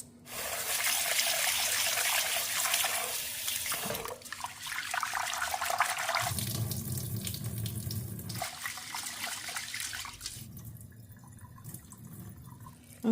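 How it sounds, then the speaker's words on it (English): Long grain rice being rinsed in water poured back and forth between two containers, with running water, splashing and trickling in several bursts, close and fairly loud, with no voices. "I'm gonna rinse it back and forth between this and that"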